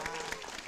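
Applause from an audience at a military anniversary event in Aceh, a short burst of dense clapping that carries steadily at moderate loudness.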